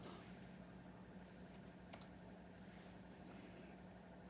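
Computer keyboard typing, a faint run of light clicks and taps with a single sharper keystroke partway through, heard alone against a quiet steady background hum.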